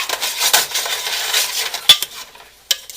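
Mushrooms are stirred and shaken in butter in a pan, close scraping and clattering strokes over faint frying, with two sharp metallic knocks near the end, for cream of mushroom soup.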